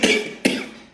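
A voice imitates a cough in two sharp bursts about half a second apart, each trailing off, close and alone with no talk.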